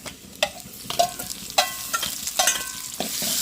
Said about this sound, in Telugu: ఇంకా టమాటాలు కూడా వేసుకొని తిప్పుకుందామండి